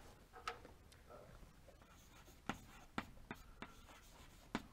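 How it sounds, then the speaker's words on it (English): Chalk or marker strokes on a board during a physics lecture on orbital mechanics, a few quiet taps and short scratches spaced out over a faint room hum, with no talking. "I'll write it that way."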